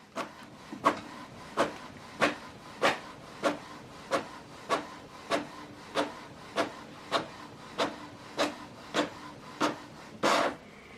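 A Canon PIXMA TS7750i inkjet printer prints the second side of a double-sided page. A steady run of evenly spaced mechanical swishes, about two per second, ends with a longer whir, close and clear, with no talking.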